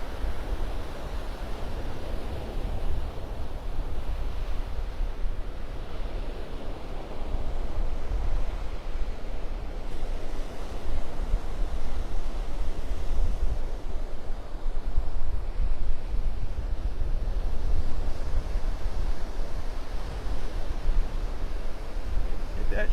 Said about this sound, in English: Mother Ocean's kicking up a storm here this morning.